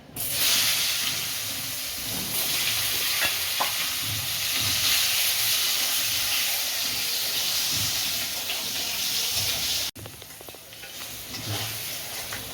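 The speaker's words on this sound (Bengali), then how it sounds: "এই তেলেই পটলটা ভেজে নেব হালকা করে।" Pointed gourd pieces fry in hot oil in a pan after katla fish for katla macher patla jhol, giving a continuous close sizzle and hiss with occasional stirring clatter, which briefly drops in level near the end.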